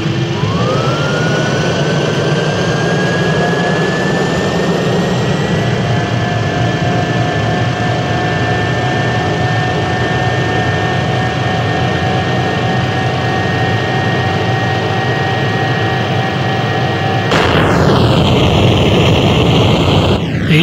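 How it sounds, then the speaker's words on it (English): Airbus A330 jet engines roaring steadily during a takeoff roll in Microsoft Flight Simulator X, a loud continuous whine and rumble with rising tones, swelling into a broader blast near the end. "Air France 1124 Kennedy, clear for takeoff, runway 2."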